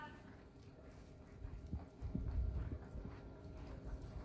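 Hooves clip-clop faintly on the ground at a distance, a quick uneven patter that grows slightly louder, with faint voices in the background.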